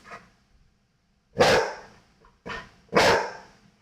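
A dog barks three times in quick, sharp bursts after a brief quiet pause, each bark loud and close, with faint small yips in between.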